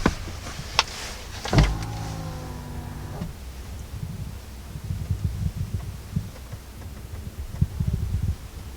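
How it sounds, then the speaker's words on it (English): Power running boards on a 2019 Ford F-150 Platinum deploy with a short electric motor whir lasting just over a second, preceded by a clunk, followed by quiet low cabin hum. "the power deploying running boards drop down nice and low"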